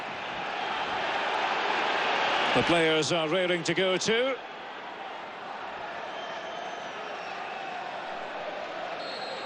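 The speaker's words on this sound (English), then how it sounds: "look at the crowd and listen to them" Dense, roaring crowd noise fills a packed stadium before a Liverpool Champions League qualifier against Maccabi Haifa, steady and loud throughout, with a commentator talking over it and a brief whistle-like tonal burst midway.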